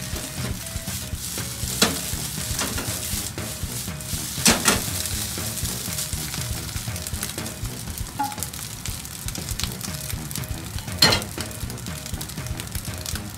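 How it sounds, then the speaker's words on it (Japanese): Rice being stir-fried in a pan with a silicone spatula, a steady sizzle of frying under repeated scraping and stirring strokes, with a few louder knocks of the spatula against the pan. "ご飯入れまして、この前紹介したね、シリコン製の目印のねやつで混ぜていきます"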